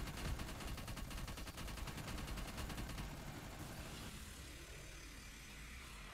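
Rapid automatic gunfire in the Call of Duty Cold War Outbreak boss fight, bursts of fast shots in a dense rattling stream that eases into quieter game noise, heard faintly at low level.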